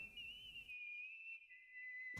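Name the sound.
shrill whistle blown through fingers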